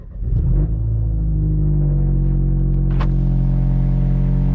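Straight-piped BMW 1 Series F21 hatchback starting up at night: a brief crank and sharp flare of revs, then a loud, deep, steady idle rumble that carries on to the end, with one short higher-pitched squeak partway through.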